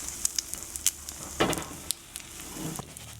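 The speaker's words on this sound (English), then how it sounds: "Beat some eggs together with a bit of salt. Cook it on the pan" Beaten eggs with a bit of salt cooking in a pan for Korean kimbap; a soft, fairly quiet sizzle with scattered sharp pops and a brief louder scrape near the middle.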